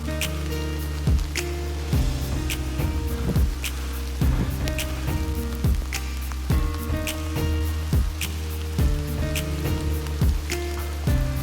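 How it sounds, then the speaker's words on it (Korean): Steady rain patters on surfaces during a rainy mountain hike to a backpacking cave campsite, with scattered sharper drops and splats over a continuous wash, no voices. "이렇게 비 맞으면서 등산하는 거 진짜 오랜만이에요."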